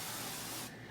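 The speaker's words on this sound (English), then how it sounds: "I'll spray some avocado oil" A short, steady hiss of avocado oil spraying into a sticky pan on a stove at low-medium heat, close and alone, cutting off abruptly.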